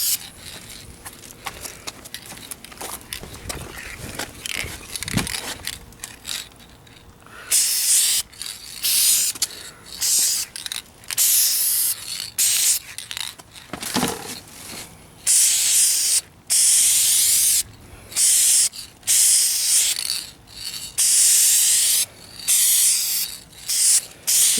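Spray paint hisses in repeated short bursts onto the rear bumper of a 2004 Kia Spectra, Duplicolor Perfect Match aerosol, each bright spray separated by brief pauses, close and loud.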